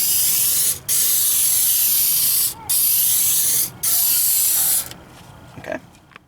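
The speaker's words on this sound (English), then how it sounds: "Now we can spray the house with the same." Three long bursts of aerosol spray hiss loudly as a house attic vent area is sprayed, each separated by a brief pause, followed by quieter handling noises.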